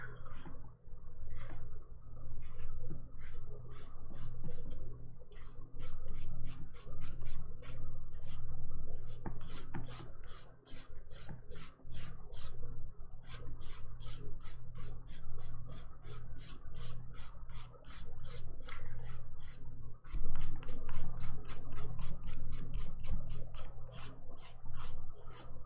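A manicure file rasps against fingernails at close range in quick, rhythmic strokes that run steadily for the whole stretch, broken only by brief pauses.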